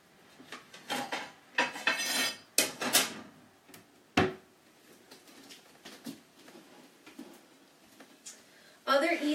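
Ceramic plates and cutlery clink and clatter close by as a plate is taken out, with several sharp knocks in a loose, irregular rhythm separated by quieter gaps.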